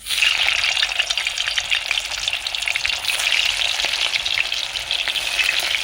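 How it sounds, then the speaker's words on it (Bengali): Chitol fish balls (muithya) sizzle and crackle steadily in hot mustard oil in a pan, a close, dense frying hiss with no talk. "তেল খুব ভালোভাবে গরম হয়ে গেছে একে একে দিয়ে ভেজে নেব"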